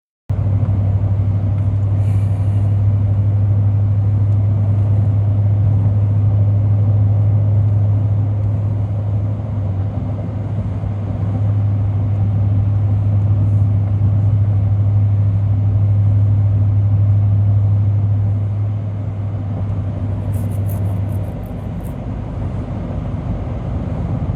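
A car drives along a South Carolina road, its engine and tyres producing a loud, steady, low rumble from inside the vehicle that holds for the full stretch and eases slightly near the end, with no talking.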